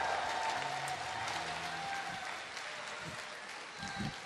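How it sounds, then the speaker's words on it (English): A BlizzCon 2011 convention audience applauds the StarCraft casters, a steady wash of clapping that holds for a few seconds and thins slightly toward the end, with faint voices murmuring underneath. "These guys, make a huge round of applause"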